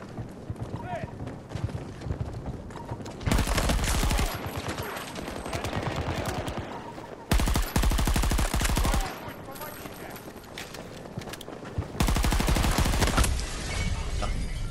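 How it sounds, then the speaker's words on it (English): Gunfire in the video game Battlefield 2042 bursts out in several loud, rapid automatic volleys over a continuous busy game soundscape, with a voice talking during the gameplay. "Someone out there was shooting."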